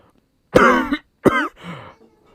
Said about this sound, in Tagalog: Naging madalas ang pag-ubo ng kanyang ama.